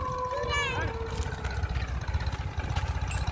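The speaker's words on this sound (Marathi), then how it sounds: "एवढा आवाज एवढा ट्रॅक्टरचा" A tractor engine idles with a low, steady mid-pitched rumble beneath lively, excited voices talking and calling out over it.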